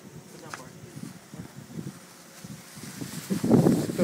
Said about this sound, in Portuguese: Começa a bater um vento agora.